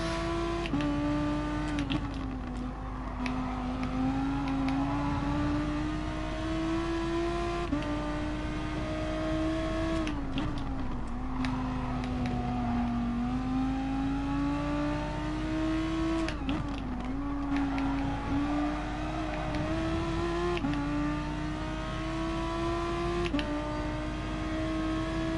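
Race cars in Gran Turismo Sport lapping in a daily online race, a steady engine drone rising and falling in pitch through gear changes, continuous and close, with no talking.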